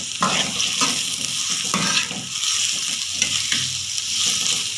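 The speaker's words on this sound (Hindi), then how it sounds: "इसको हम दोनों चीज़ों को गोल्डन ब्राउन कलर आने तक फ्राई करेंगे" Chopped garlic and onions fry in a pan for bhindi masala, giving a steady close sizzle with occasional stirring scrapes and light utensil knocks throughout, no talking.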